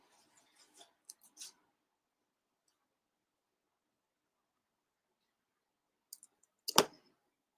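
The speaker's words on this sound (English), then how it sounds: "then just cut that out with the scissors" A few quiet snips of scissors cutting cardstock, then silence, then a sharper cluster of cuts near the end.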